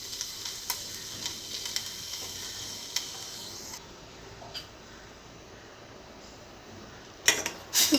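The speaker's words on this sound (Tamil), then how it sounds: "இப்போது இந்த மில்க் பாயில் ஆகிட்டுருக்கு." Milk sweetened with sugar boiling in a pan for pistachio pudding, giving a steady bubbling sizzle with scattered soft pops and a few louder crackles near the end, with no voices.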